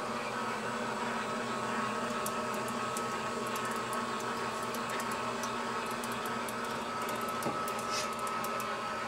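C Series M2 direct-to-garment printer ejecting its print bed: a steady, loud mechanical hum and whir runs throughout, with faint high ticking and clicking over the top and no voices.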